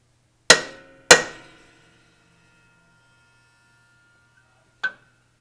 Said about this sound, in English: Give it a little punch so that your drill bit don't walk.